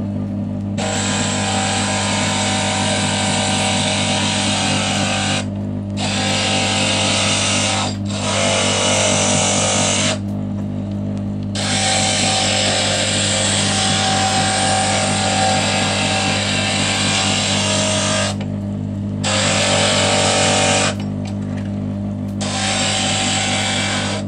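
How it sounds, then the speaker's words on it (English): Glass grinder shaping the edges of stained glass pieces for a window, a steady loud whining grind broken by several short pauses as each piece is lifted away, with a low motor hum running throughout. "I've got a piece here and I'm going to use it on the glass grinder"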